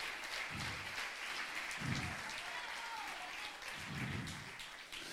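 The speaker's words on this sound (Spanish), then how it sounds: "Let's give him a round of applause." Church congregation applauding, a continuous clatter of many hands at a moderate distance, with a few low bursts of voice mixed underneath.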